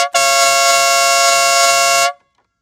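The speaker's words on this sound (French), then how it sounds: "parce que ça klaxonne très fort quand même" A single very loud, close blast from a WADEO 12V 150 dB electric horn meant for a scooter holds steady for about two seconds, then cuts off into silence.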